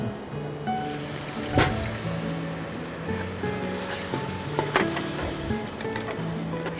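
Homemade kodampuli (Malabar tamarind) liquid hits a hot pan in an open kitchen, bursting into a loud, bright sizzle that hisses steadily, punctuated by a couple of sharp spatters and stirs.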